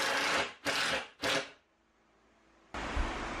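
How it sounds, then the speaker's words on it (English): Screws driven into a wooden queen bed frame board by a power driver, three quick buzzing bursts in close succession followed by a pause and then a longer, steady whir, all close and loud with no talk. "the rest of the inner pieces I'm just going to put a screw every 2 foot or so"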